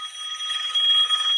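A telephone rings indoors with a steady, bright electronic trill that carries on without a break for the whole moment. No one talks over it.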